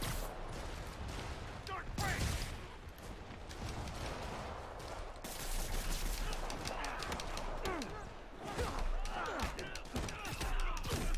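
Rockets fired during combat in Marvel's Spider-Man video game, a busy mix of bursts, thuds and whooshes with mechanical clatter, fairly loud and continuous, with voices talking over parts of it.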